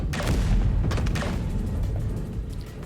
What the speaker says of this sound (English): I'm going to shoot him with the cannons.